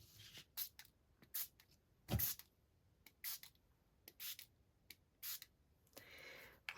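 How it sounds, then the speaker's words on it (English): Short hissing bursts of an aerosol wax paint spray can repeat in quick, irregular pulses, close by, with a longer spray near the end. "literally I'm just going to spray it in a couple of places"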